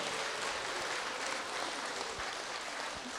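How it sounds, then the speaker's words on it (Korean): An audience at a celebration for a revered Buddhist nun's ninetieth birthday applauding: dense, steady clapping sustained for a few seconds, moderately distant, with no voices over it. "여러분들 불강 미디어와 더불어 저에게도 저에게도 박수를 주시기 바랍니다"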